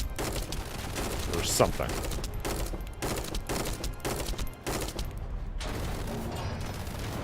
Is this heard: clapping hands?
no